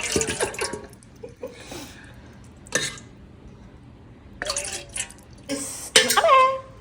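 Chicken stock for chicken mandi rice being poured and ladled out in several separate splashy bursts, near and fairly loud, with short pauses between pours.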